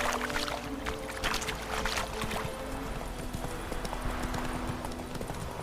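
Steady clip-clop of the horse Roach's hooves trotting in The Witcher 3, close and rhythmic over a soft ambient music bed, with an occasional snort.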